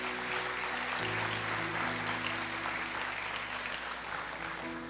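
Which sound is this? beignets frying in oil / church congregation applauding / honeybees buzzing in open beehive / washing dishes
church congregation applauding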